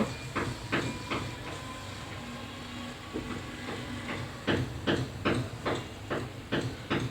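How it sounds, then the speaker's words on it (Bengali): Spice paste sautéed in oil for kajuri fish curry gives a continuous loud hiss, with a steady run of rhythmic scraping strokes from a spoon against the pan that grow stronger toward the end, and no voices. "এখন মশলাগুলো ভালোভাবে কষিয়ে নিব"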